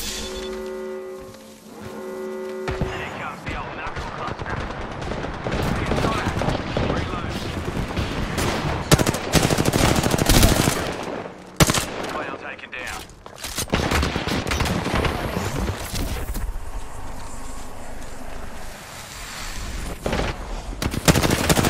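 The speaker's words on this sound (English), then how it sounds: "Shooting my own teammate." Automatic gunfire in the shooter video game Apex Legends, long dense rattling bursts that nearly fill the clip, broken by short pauses and shifting between near and slightly distant fire.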